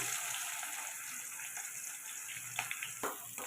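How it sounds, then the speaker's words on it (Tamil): Mustard seeds and onion sizzle in hot oil in a kadai, a soft, even hiss with a few faint pops and stirring noises near the end. "எண்ணெய் சூடானதும் கடுகு போட்டுக்கலாம் வெங்காயம் போட்டுக்கலாம்"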